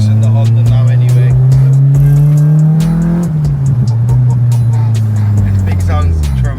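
A 270 bhp Honda Civic with a K24 engine revs hard from inside the car, its loud engine note climbing and settling in steady swells with no clear talk over it.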